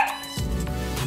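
A dog barks once or twice nearby, a short sharp yelp trailing into a longer rough bark.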